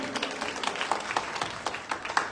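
An audience claps for a performance by small children at a Ram Setu event, with scattered, uneven hand claps at moderate distance, fairly light and steady across the moment rather than a big roar.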